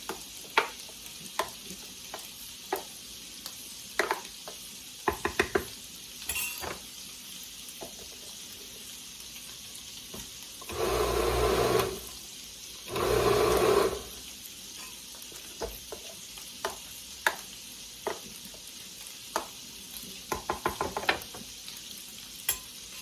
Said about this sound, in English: So in total, we're putting 4 cups of cooked rice in here. I'm gonna incorporate it with my spoon.